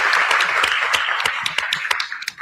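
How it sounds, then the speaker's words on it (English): Scattered hand claps from a small audience at a Detroit civic breakfast forum, uneven and fairly close, fading toward the end without speech. "So give yourselves a round of applause for the work that you're doing."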